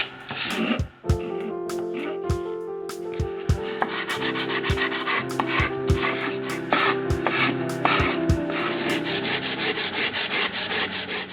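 Sandpaper rubs steadily along the edge of a wooden mini etching press part, a close, continuous scratchy rasp with repeated strokes and short pauses, alone without talk.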